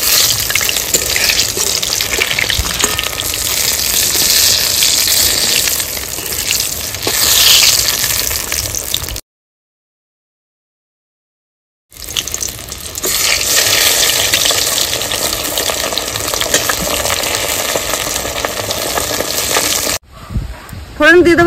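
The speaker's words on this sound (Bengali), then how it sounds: "এই যে বেগুনটা আমি ভেজে নিয়েছি 2 মিনিট ধরে" Eggplant slices frying in hot oil in a village kitchen, a loud continuous sizzle that drops out for a few seconds before returning with occasional stirring and clinks.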